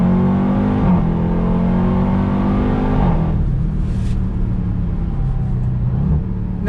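A 2021 Dodge Durango Hellcat accelerates hard, a loud close engine roar climbing through the revs with audible gear shifts that drop the pitch and then pull again.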